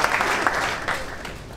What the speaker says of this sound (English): Yes, you can applaud for her.